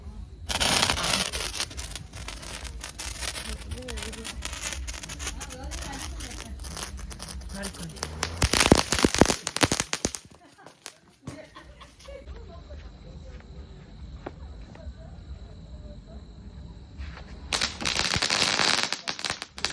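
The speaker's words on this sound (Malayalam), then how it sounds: "അപ്പോൾ ഞങ്ങൾ മാറി മാറി പടക്കം പൊട്ടിയൊക്കെ ആഘോഷിക്കുകയാണ്" Leftover Vishu firecrackers set off in turns at a birthday celebration, with bursts of crackling pops and rapid rattling explosions close by, separated by quieter stretches where people talk.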